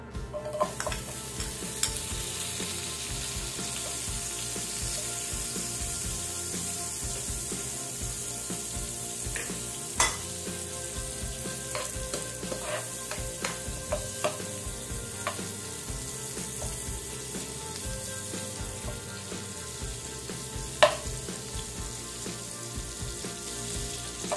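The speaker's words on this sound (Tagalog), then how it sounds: "Yan, mainit na po. Lalagay natin tong butter." Butter melts in a hot pan with a steady, even sizzle lasting the whole stretch, punctuated by occasional faint clicks and taps of utensils. No one talks over it.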